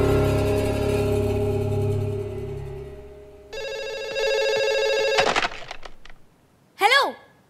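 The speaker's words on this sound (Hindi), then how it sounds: "इतनी देर से फोन रिंग हो रहा है" A telephone rings in repeated bursts, loud and close, followed by sharp clattering thumps and a brief electronic warble.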